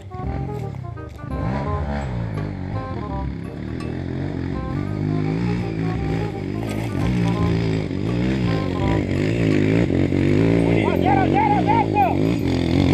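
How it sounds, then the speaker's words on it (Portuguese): A modified motorcycle revs hard on a dirt trail, its engine climbing and falling in repeated loud, close bursts while people shout excitedly over it. "Que moto preparada é essa?"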